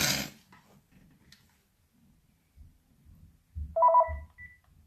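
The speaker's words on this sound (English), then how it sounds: "My phone keeps ringing." A phone rings in a quiet room, a short electronic ring tone with a steady pitched pattern rising near the end, alongside faint soft handling noises and low thumps.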